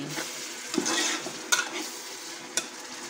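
Tomatoes for Pakistani-style dal lobia sizzle in a pan while a spoon scrapes through them, with several distinct stirring scrapes over a constant frying hiss, close up.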